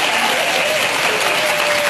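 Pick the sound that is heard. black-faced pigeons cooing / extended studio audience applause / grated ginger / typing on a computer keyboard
extended studio audience applause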